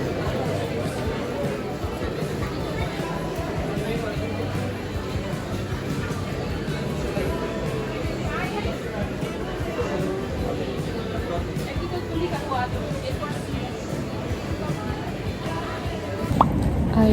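Busy crowd at an outdoor market, a steady wash of overlapping chatter and murmured voices filling the background throughout, with a brief louder bump at the very end.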